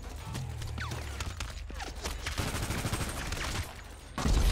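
Rapid gunfire in the video game GTA 5, dense bursts of shots rattling continuously and fairly loud over background game noise, with a heavier burst at the very end.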